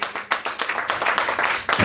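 A church congregation claps and applauds together in quick, rhythmic bursts, bright and close, with the claps coming thick and steady for a brief stretch.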